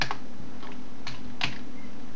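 Keys tap on a computer keyboard in a few short, uneven bursts of clicks, close and crisp against a quiet steady background with no speech.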